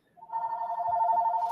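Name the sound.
telephone ringing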